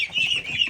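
Farm ducks at a farm stay give a short burst of close, nasal calls, quacking continuously for under a second with no talk.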